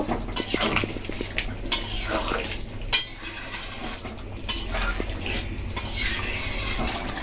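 Spoon stirring chicken curry in a pot, with kasuri methi just added, making repeated clinks and scrapes against the metal pot, close and fairly steady, with a couple of sharper knocks.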